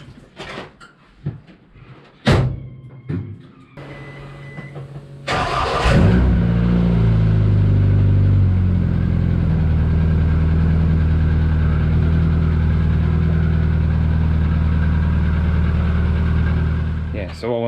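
A Morris Minor car engine cranks over and catches after some brief clatter, then settles into a loud, steady idle that runs close by for more than ten seconds.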